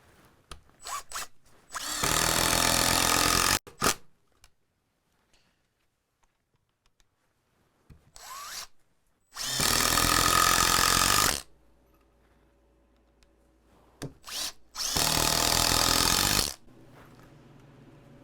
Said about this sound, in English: let's pound some screws in here